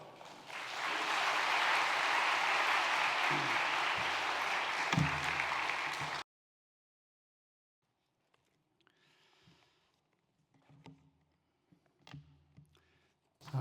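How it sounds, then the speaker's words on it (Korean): Church congregation applauding warmly during a Sunday morning service to welcome a pastor to the pulpit, a dense sustained clapping for about six seconds that stops abruptly, followed by faint shuffling and quiet room noise. "따뜻한 박수로 같이 목사님 맞이하고 시작할까요?"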